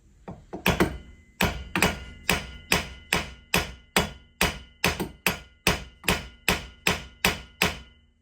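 Hammer strikes on a Corvette C5-C6 front steering knuckle to free the lower ball joint, about sixteen loud metallic blows in an even, steady rhythm, each ringing briefly, close and alone without speech.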